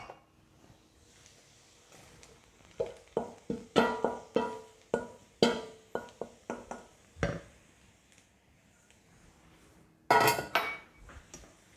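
Mushrooms are tipped into a pan for a duxelles, giving a run of sharp clattering knocks and clinks of utensil on cookware, one after another for several seconds, followed later by a louder scrape-and-clatter burst.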